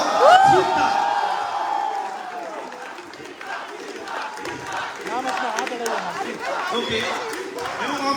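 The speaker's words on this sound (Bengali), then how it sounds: "একটা জোরে জোরে জোরে চিৎকার, হাততালি," A crowd at a film trailer launch event shouts, whoops and applauds loudly and continuously, with a dense wall of cheering voices and clapping that holds steady throughout.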